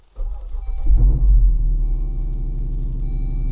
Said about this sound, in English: obviously the 392's got a little different sound on startup, and the performance exhaust is on.